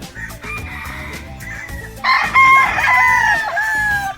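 Gamefowl roosters at a game farm crowing one after another, with loud, drawn-out calls overlapping near the microphone and a brief cluck or two between them.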